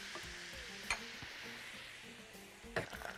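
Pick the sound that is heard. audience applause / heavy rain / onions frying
onions frying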